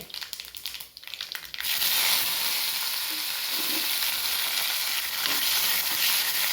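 Cumin seeds and curry leaves hit hot oil in a pan for chutney, with soft rustling and crackles at first, then a sudden loud, steady close-up sizzle with light stirring and no talk.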